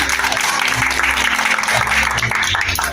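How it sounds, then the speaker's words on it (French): Dense, steady applause fills a birthday party for a team, loud and continuous for about three seconds, with a faint low musical hum underneath. "Applaudissez s'il vous plaît."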